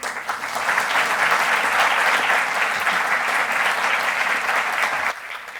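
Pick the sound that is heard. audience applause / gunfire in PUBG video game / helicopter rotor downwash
audience applause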